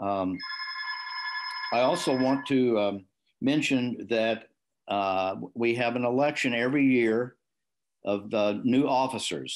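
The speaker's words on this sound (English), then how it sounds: "Sorry about the phone." A telephone bell rings briefly and sharply at a club luncheon meeting, sounding near the start beneath someone speaking continuously at a microphone.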